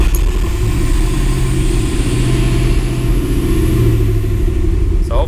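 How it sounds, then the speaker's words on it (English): A cold Dodge Magnum V8 engine fires up and settles into a steady, loud, low rumbling idle that continues without a break, with no talking over it. "So we'll go ahead and start it up. The engine's completely cold."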